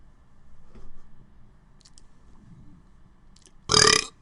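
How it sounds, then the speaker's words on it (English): One big, loud, raspy burp erupts near the end after several seconds of near-quiet with faint rustles. "I'll do one more big burp"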